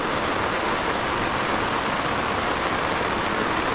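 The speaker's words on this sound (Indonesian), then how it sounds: "dan sekarang hujan." Steady rain pours on a foggy mountain campsite on Mount Prau, a dense, even hiss of drops at constant loudness with no voices.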